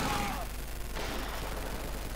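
Sniper rifle fire in Company of Heroes 2, with a sharp shot cracking out of a dense layer of battle noise, steady and loud, as a voice talks over it.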